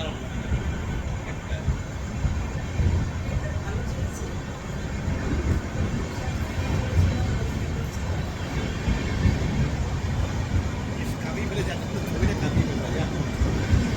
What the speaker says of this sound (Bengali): আমাদের ট্রেনটাও এবার ছেড়ে দিয়েছে।